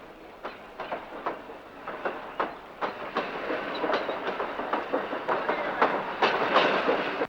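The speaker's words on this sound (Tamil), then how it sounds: "ரயில் போயிட்டே இருக்கு, பாத்துக்கிட்டே இருக்கியே." A train rolls past on the tracks with a steady, rhythmic clickety-clack of wheels over rail joints. The rattle is close and fairly loud, builds slightly, and carries on alone with no voices.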